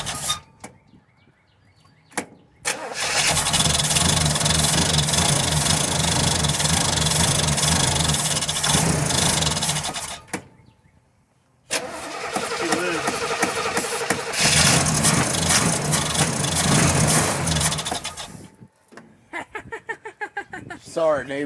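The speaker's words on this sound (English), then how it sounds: "You gotta turn the key to start it." A Chevelle's engine cranks and catches, then runs loud and rough with a brief cutout before restarting and rumbling on, nearby and dominant, with short gaps between.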